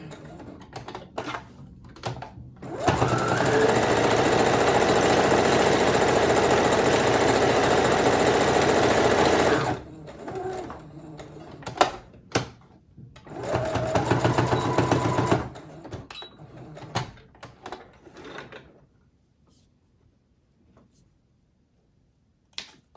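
A sewing machine stitches a fabric face mask in a steady, loud run of about seven seconds, stops, then runs again in a shorter burst amid handling clicks before falling quiet.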